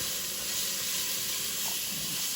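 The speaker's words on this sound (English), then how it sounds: "So we'll saute those for a little while." Onions sautéing in a pan give a loud, close, continuous sizzling hiss, broad and steady throughout with no talking.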